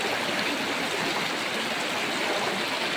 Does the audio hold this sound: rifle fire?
no